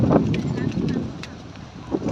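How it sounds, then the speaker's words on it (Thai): Gusty wind on Bang Saen beach buffets a microphone in low roaring bursts, with faint voices underneath. "ดูลมแรงเลยนี่ ชายหาดทะเลบางแสน"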